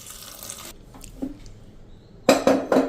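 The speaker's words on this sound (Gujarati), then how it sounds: "આપણે 1 ગ્લાસ જેવું પાણી નાખી દેશું." Water from a glass splashes into a cooking pot holding chillies and chopped tomatoes, first a brief pour, then a quiet gap with small clinks, and a final burst of sloshing pours near the end.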